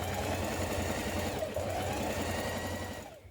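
Sewing machine running steadily while stay stitching a shirt neck facing, a close continuous rapid whirring stitch that pauses briefly midway and then winds down.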